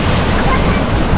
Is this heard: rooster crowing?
no